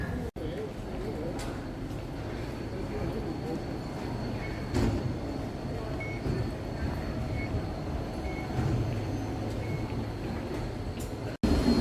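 Metro train ride heard from inside the carriage: a steady low rumble and rattle of the moving car runs throughout, with faint squeals and a brief jolt near the end, and people talking in the background.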